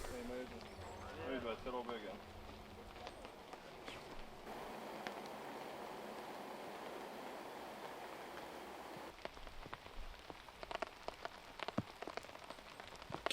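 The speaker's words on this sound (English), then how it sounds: "You hear the raindrops." Light rain pattering steadily on a disc golf course at a professional world championship, soft and continuous with scattered drop ticks, under quiet talk and occasional background noise.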